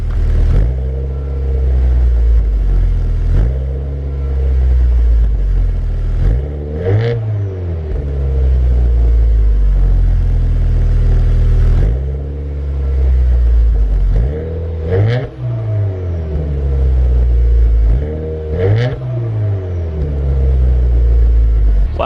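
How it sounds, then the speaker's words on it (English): Subaru Forester XT fitted with an Invidia Q300 catback exhaust, idling with a deep, steady rumble and then revved several times, each rev a loud rising and falling roar close by. "let me try giving it a rev."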